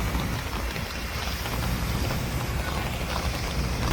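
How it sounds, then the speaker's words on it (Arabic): Rain falling on a street in Alexandria, a dense, loud and continuous wash of noise mixed with low rumbling street sound, with no talking. "اهي الشمسيه بتاعتي والدنيا بتشتي"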